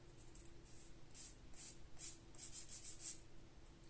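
Faint, close rasping of a coarse nail file across rough layers of powder nail varnish, a series of short scratchy strokes in an uneven rhythm over soft background hiss.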